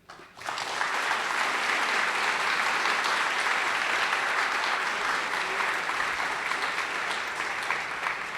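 A crowd at a talk on Western science and Tibetan Buddhism bursts into sustained applause welcoming astronomer Dr. Chris Impey, rising quickly and holding as a steady wash for about eight seconds.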